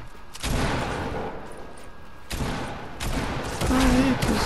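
Pump shotgun blasts ring out in a Fortnite match, two or three sharp, loud shots spaced a couple of seconds apart, each trailing into rough noise, with a brief voice-like tone near the end.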